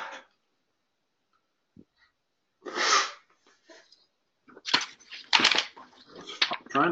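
A single sharp sneeze bursts out, followed by breathing and brief muffled movement sounds, fairly close.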